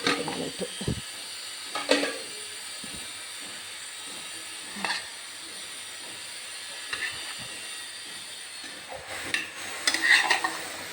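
Chicken curry being stirred in a pan: a few scattered spoon scrapes and knocks over a quiet, steady hiss of cooking.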